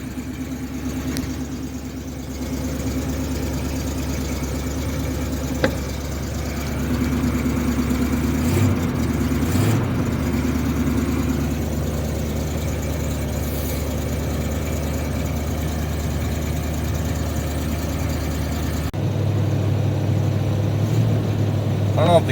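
A car parked for about two months idles after a cold start, its engine humming steadily with a brief shift in pitch partway through, while someone talks over it.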